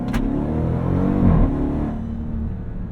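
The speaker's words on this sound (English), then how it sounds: "The supercharger noise is just gnarly" A 2026 Dodge Durango SRT Hellcat's supercharged engine revs up with a deep, throaty growl and a supercharger whine, swelling briefly then settling into a steady rumble, close and loud.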